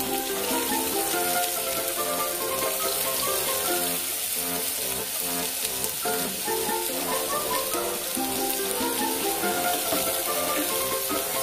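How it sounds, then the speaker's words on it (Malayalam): Finely chopped onion fries in a little oil in a pan with a steady, dense sizzle that continues throughout under tonal background music. "നമുക്ക് ഇതിലോട്ട് സബോള ഇടാം. 1 സബോള കൊത്തി അരിഞ്ഞതാണ് നമ്മൾ ഇടുന്നത്."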